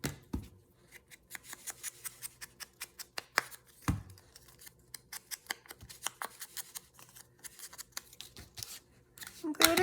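Close, quiet snips of scissors cutting paper for a junk journal, a quick irregular run of crisp clicks with short pauses between bursts.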